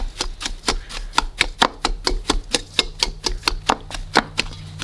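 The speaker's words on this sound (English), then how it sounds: "And then we're going to add in some sugar, salt, and mash it with a whisk." A whisk mashes hot cooked taro with sugar and salt in a bowl, giving rapid rhythmic tapping and thudding strokes, about four per second, close and clear with no talking.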